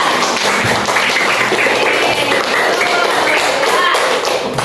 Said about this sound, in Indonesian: Tepuk tangan dulu buat Abi ya